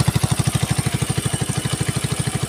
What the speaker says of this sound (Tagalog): Ang tining ng andar ng ating makina, wala kang marinig na kalansing.